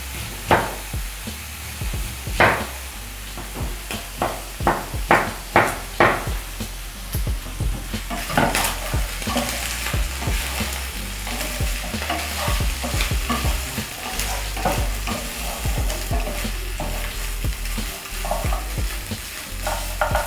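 Pork and two onions frying in a pan, giving a steady loud sizzle throughout with a run of sharp utensil scrapes and taps near the start.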